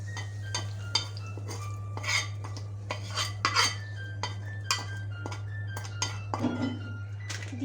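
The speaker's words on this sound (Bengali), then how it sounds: "এখন আমি বেরেস্তাটা এখানে দিয়ে দিব।" A spoon scrapes and clinks against a metal pot as fried onions (beresta) go into kacchi biryani, with a run of light, irregular taps and knocks close by over a steady low hum.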